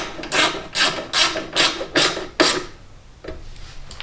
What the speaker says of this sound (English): Back down with 5/16 socket.